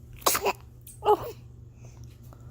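A baby lets out two quick sneezes, close and fairly loud, with a brief pause between them and quiet room tone around them.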